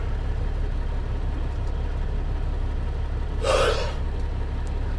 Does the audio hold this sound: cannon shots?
no